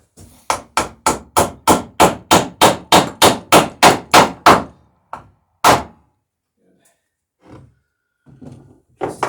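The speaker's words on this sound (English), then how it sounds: "get a big heavy nail on in there, ring nail." Hammer driving a big heavy ring nail into a wooden boat frame, about fourteen evenly spaced loud blows in quick succession, then a single final strike and quiet handling noises.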